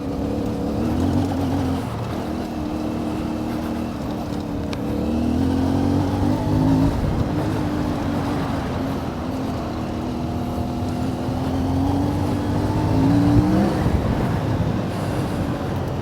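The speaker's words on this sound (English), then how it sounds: "this bike really takes off in the higher revs" A CF Moto 450MT motorcycle engine revving hard on a gravel lane and climbing through high revs, rising and dropping with gear changes, loud and close throughout.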